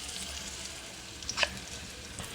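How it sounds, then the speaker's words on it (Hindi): Sliced onion sizzles in hot oil in a pan, a steady soft hiss of frying with a few brighter crackles and pops briefly rising above it, heard close and fairly quiet. "ये देखिए, ये मैंने ऑयल में प्याज शामिल कर दी।"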